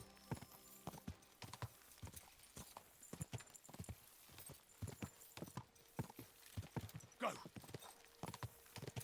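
Horse hooves clip-clop steadily while riding in Kingdom Come: Deliverance 2, a close, rhythmic trot of hoofbeats with a brief shout over it and a whinny-like burst near the end.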